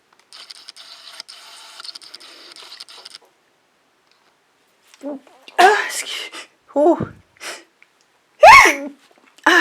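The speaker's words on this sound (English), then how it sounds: "I may sneeze." Quiet rustling at first, then after a pause a few sharp bursty vocal outbursts, the loudest near the end, close and abrupt like a sneeze.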